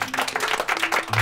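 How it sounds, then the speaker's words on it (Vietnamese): Clapping and cheering from a group of onlookers rousing support before a fight, a dense burst of hand claps with a few shouts mixed in, brief and close. "Vỗ tay cổ vũ."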